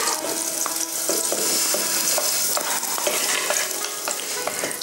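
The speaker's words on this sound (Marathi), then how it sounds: "मी भाजी फोडणीला टाकली आहे" Vegetables sizzling in hot oil with a tempering in a home kitchen, a steady crackling fry close by with repeated scraping stirs and no talk.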